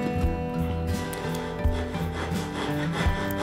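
A hand saw cuts a wooden bar for a baritone guitar bridge, a close, continuous rasping rub with irregular strokes and no talking.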